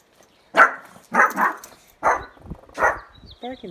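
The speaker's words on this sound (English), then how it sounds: "this is like the first time I'm hearing her bark" A dog barks four times in a slow, uneven rhythm, close and fairly loud, followed by a short whine.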